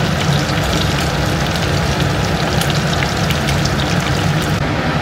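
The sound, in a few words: pabda fish frying in oil in a pan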